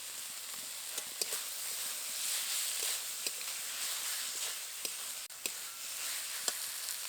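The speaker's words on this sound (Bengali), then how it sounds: "এবার কিছুক্ষণ নেড়ে চেড়ে এটাকে শুকনো করে নেব" Spiced drumstick flower masala stirred in a pan, a steady hiss of sizzling with soft, irregular scrapes and taps of a spatula, near and moderately quiet, no talk.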